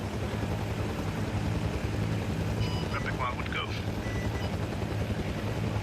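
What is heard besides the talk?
military helicopter in a video game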